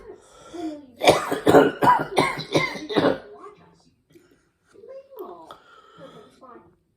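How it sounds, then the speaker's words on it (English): A run of harsh bursts from a single person clustered in the first few seconds, loud and close, followed by quieter breathy throat noises and a short voiced sound. "Sorry, I'm coughing so much."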